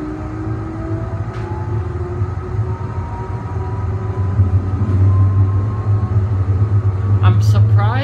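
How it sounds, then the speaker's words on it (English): Low steady rumble of a Siemens S200 light rail car riding the Calgary CTrain Red Line, continuous motor and track drone building slightly, with a brief screech or chime near the end and faint voices under it. "we pretty much caught the train right away"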